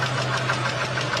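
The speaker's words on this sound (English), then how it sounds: "That is the sound of pistons rocking inside cylinders with more clearance than the engineers intended." A car engine idles with a steady low hum and a faint, rhythmic knocking layered on top, the piston-slap rattle of worn cylinders heard close and continuous.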